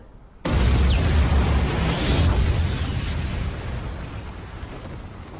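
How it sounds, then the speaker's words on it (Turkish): A sudden deep boom of a bomb dropped from an aircraft bursts out, followed by a long rumbling roar that slowly fades, heavy and loud. "Göğüs göğüse çarpışma anında bir İtalyan uçağının attığı bomba patladı."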